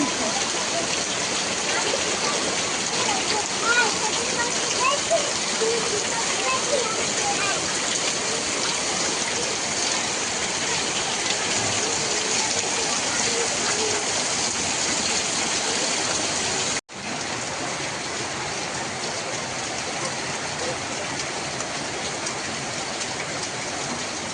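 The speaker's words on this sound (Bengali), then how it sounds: "এত বৃষ্টি হচ্ছে ওখান দিয়ে জল গড়িয়ে এখান দিয়ে নাম" Heavy rain pours and runs off a plastic sheet into a catch bucket, a steady, loud, dense wash of water that holds throughout and drops slightly in level near the end.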